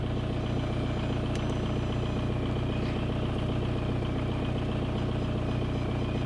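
A Volkswagen ALH TDI diesel engine in a Mk4 Golf or Jetta idles with a steady, low rumble and an even mechanical drone, and no voices are heard.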